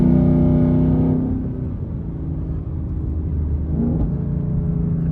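Ford Mustang GT V8 with Corsa Extreme exhaust gives a deep, loud rumbling note that eases off as the revs drop, then swells again briefly while driving on the road.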